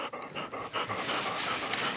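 A dog pants rapidly and close by, quick rhythmic breaths continuing throughout with no talking.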